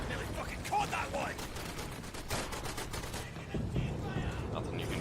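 Gunfire in the World War II shooter Day of Infamy, with bursts of machine-gun fire and scattered shots crackling at moderate distance through a busy battle mix.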